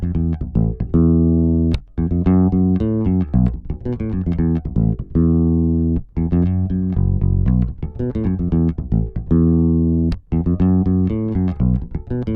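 A bass guitar riff from a song, played alone at a slightly quicker tempo with muted ghost notes between the sustained pitched notes, loud and close throughout.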